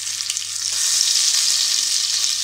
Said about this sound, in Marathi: आता मी त्याच्यात थोडं वाटण टाकते,